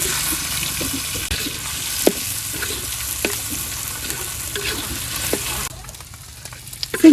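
Prawns and onion sizzle and spit in hot oil in a wok, a steady close frying hiss with scattered pops and occasional utensil clicks, easing off near the end.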